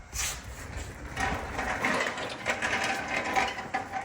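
A hand ratchet clicks rapidly and steadily, close up, while loosening 14mm bolts holding the differential on a 2017 Honda Rancher ATV.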